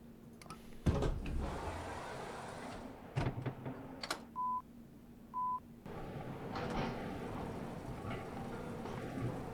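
Subway train doors unlocking in the Subway Sim 2 video game: a series of short, evenly spaced electronic beeps over a steady cab hum, preceded by a few sharp clicks and thuds.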